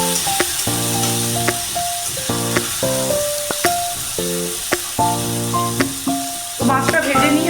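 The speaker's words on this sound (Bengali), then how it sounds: "মাছগুলো একটু ভালো করে ভেজে নেবো মুচমুচে করে।" Small morola fish frying in hot oil until crispy, a loud continuous sizzle and crackle punctuated by repeated sharp clinks and scrapes of a utensil against the pan, with a brief bubbling burst near the end.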